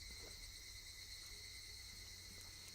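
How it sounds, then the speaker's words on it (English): Cicadas in the Higurashi When They Cry video game drone steadily in a shrill, continuous buzzing chorus, faint but constant with no pauses or other sounds. "Only the cry of the cicadas remained, annoyingly loud"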